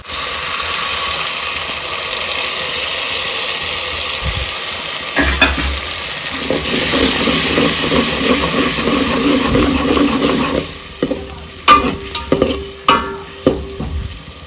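Onions fry on a low flame for dal dhokli, sizzling steadily throughout. Spoon scrapes and stirring clatters break in around the middle, and sharper metallic knocks come near the end.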